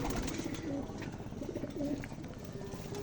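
Champion racing pigeons at a pigeon tournament coo in low, repeated throaty calls close by, under steady crowd noise and someone talking.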